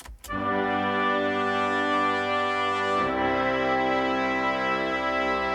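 Full brass chords enter after a short attack and sustain richly, moving to a different chord midway and holding to the end.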